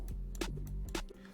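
Rio slingshot snare sample playing in a trap beat, two sharp snare hits with a swinging whoosh tail over a steady low bass hum, close and fairly quiet, no voices.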